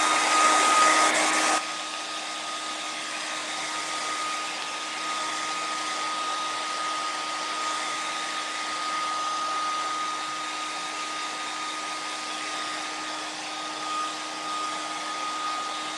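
A hair dryer blows steadily on wet IOD paint on a handmade Christmas sign, a continuous close whooshing hum that stays even for the whole stretch after a short louder burst at the start.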